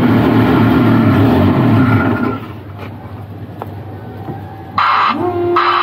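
The engine of a Niftylift HR21 hybrid boom lift, a unit with a CAN bus fault, idles with a steady low rumble, then quietens, before a loud tonal whine and hum start up near the end.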